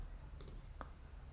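A computer mouse clicks a web form's Next button, giving two quick faint clicks close together and a third soft click shortly after, with a quiet background hum.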